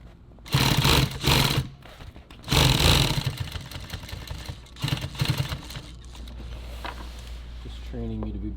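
A sewing machine runs in several short bursts of rapid whirring stitches through nylon tactical gear in a dim workspace, with quieter handling sounds between the bursts.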